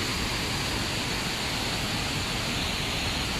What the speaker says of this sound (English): And over here, another waterfall.